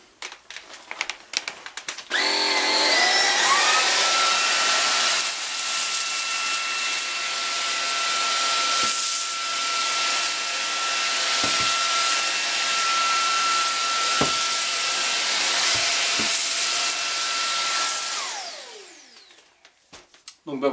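A Cecotec Rockstar 500 cordless vacuum cleaner starts up and runs steadily, whining loudly for about fifteen seconds as it sucks rice grains off a carpet, then winds down and stops.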